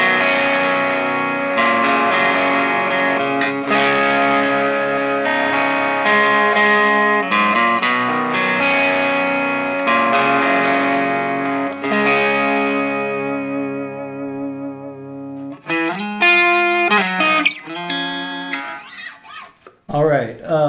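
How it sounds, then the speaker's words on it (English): Electric guitar through an Eric Gales Brute Drive distortion pedal, smooth and sustained, with chords and melodic lines held for several seconds, then a brief pause and a few sharper strummed bursts, loud and up close. "So a real nice, smooth distortion sound."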